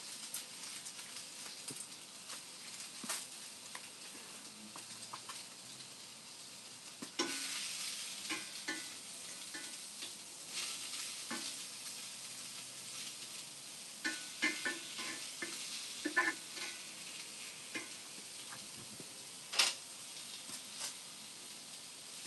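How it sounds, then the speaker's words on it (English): Sliced onion sizzles in a pan on a wood stove, a steady low frying hiss with scattered crackles and pops that thickens after a few seconds, heard close with no talking. "I cut up an onion, sliced it up, add that onion to the pan"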